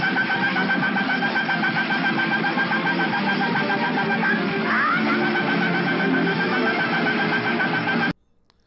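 Harsh, dense buzzing from the NES game Fist of the North Star as Kenshiro performs his 1,000-hand strike, a loud continuous electronic rattle lasting about eight seconds before cutting off abruptly.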